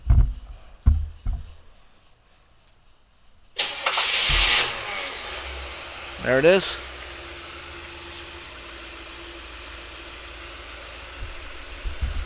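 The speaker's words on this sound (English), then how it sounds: "you can be quite a distance away and still start the car" A 1966 Oldsmobile Toronado engine, fired by a remote starter, cranks and catches after a few sharp clicks, then settles into a steady, close idle while a person speaks briefly over it.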